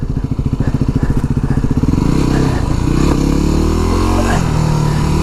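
Yamaha WR250R dual sport motorcycle being ridden, its engine loud and close as it pulls and climbs in pitch while accelerating, with rough throbbing and wind rush throughout and no talk over it.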